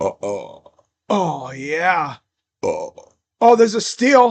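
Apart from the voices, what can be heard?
burping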